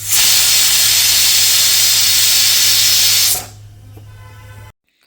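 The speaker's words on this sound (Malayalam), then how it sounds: "ഒരു 3-4 വിസിലാകുന്നത് വരെ കുക്കറിൽ വേവിച്ചെടുക്കാം." A pressure cooker cooking bitter gourd for a Kerala-style curry lets out one loud, steady whistling hiss of steam for about three seconds, then cuts to a quieter background before stopping.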